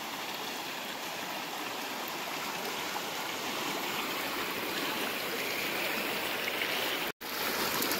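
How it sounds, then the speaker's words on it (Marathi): A swollen river rushes past in a loud, unbroken roar of flowing water, with a brief dropout near the end. "नदीला पूर्ण पाणी आलंय, तुम्ही बघू शकता"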